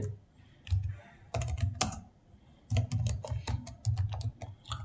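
Fingers type on a computer keyboard in quick bursts of crisp clicking keystrokes, pausing briefly between runs, close and fairly quiet with no talking.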